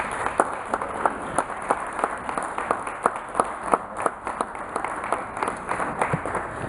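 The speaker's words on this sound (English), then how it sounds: "can we give him a round of applause?" Applause from a gathered audience for a youth soccer coach at a community Sankofa event, with dense, scattered claps of steady, moderate loudness that keep going for several seconds and have no talking over them.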